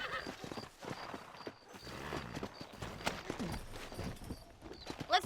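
Horse hooves clip-clop in Red Dead Redemption, a brisk uneven walking rhythm of hoof strikes on dirt, with a horse whinny or snort and some game ambience around them.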